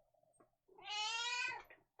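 An indoor cat gives one long, tonal meow that swells and then fades, heard up close and fairly quiet, with faint low rustles before it and no talk.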